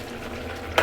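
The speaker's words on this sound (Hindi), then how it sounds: "तो अभी बन रही है सब्ज़ी, देखो प्लेट का क्या हाल हो रहा है।" Vegetable sabzi with a thin, watery gravy cooking in a pan on a home stove, a low steady sizzle and bubble with a brief sharper scrape or clatter near the end.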